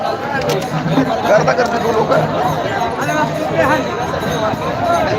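A dense crowd of Warkari pilgrims on the road toward Natepute in the morning, a steady close hubbub of overlapping chatter and shuffling movement throughout, with voices talking nearby.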